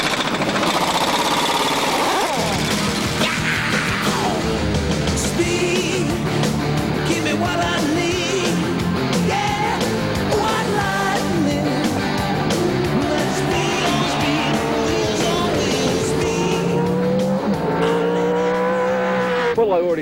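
Australian V8 Supercars, Ford Falcons and Holden Commodores, race at the 1996 Auckland touring car sprints, their engines snarling through rising and falling gear changes that overlap throughout, close and loud, with tires squealing.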